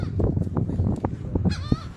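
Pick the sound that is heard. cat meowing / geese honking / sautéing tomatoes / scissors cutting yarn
geese honking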